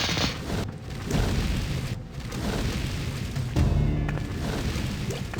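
Spilled oil in Lands of Lore: Guardians of Destiny sparked and bursting into flames, a steady loud roaring whoosh with a few deep booming swells, heard alone.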